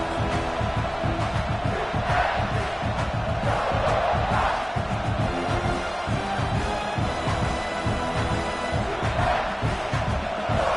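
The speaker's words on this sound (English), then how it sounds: "The crowd really making some noise now" A large college football stadium crowd roars and cheers continuously, loud and sustained, with swelling shouts and whoops rising throughout.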